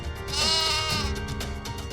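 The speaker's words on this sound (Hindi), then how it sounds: "ये बकरी न जाने कहां से आ गई और शोर मचा रही है।" A goat bleats loudly and close, one long wavering cry followed by shorter trailing bleats, with no other sound competing.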